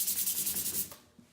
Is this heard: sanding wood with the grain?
yes